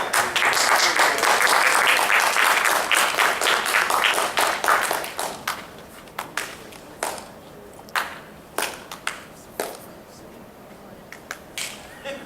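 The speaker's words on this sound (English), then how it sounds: "That's a good clap." Loud, dense applause from an audience for about five seconds, then thinning out into scattered individual claps that trail off.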